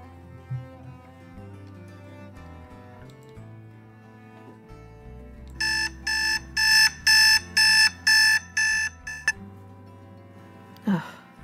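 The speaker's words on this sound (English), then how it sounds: "Damn alarm." An alarm clock rings in a rapid burst of about nine bright pulses, cutting in loudly over soft background music and stopping abruptly.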